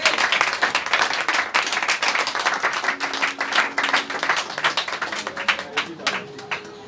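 A church congregation applauds to acclaim the Lord, with dense, continuous clapping from many hands, fairly close, carrying on for several seconds while a voice briefly calls out over it.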